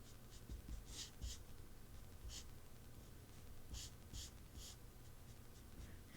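Marker squeaking and scratching across paper as it draws, soft and close, with short irregular strokes and taps over several seconds against a quiet background.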